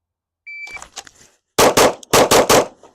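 A short electronic beep, then about five sharp, loud gunshots in quick pairs at a pistol shooting competition, each crack close and cutting off abruptly.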